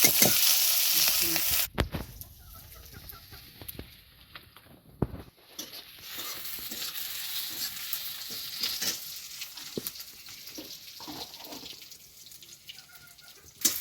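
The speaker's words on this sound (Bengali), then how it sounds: "পেঁয়াজটা লাল করে ভাজা হয়ে গেছে" Onions frying in oil with whole spices and bay leaves until browned give a loud opening sizzle, then a softer ongoing crackle with scattered stirring clatters and a few sharp knocks against the pan.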